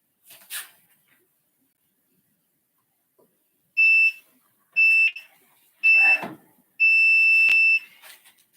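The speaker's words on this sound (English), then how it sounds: "I just have a big old countdown timer" A countdown timer alarm sounds in a Hapkido martial arts class, giving four loud, shrill electronic beeping bursts about a second apart, the last one held longer, in an otherwise quiet room.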